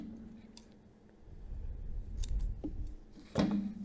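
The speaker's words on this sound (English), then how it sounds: "Now what you're wanting to do is simply cut the yarn" Scissors snip crochet yarn with a couple of soft, close, quick clicks and a crisp cut near the end, against a quiet room with no talking.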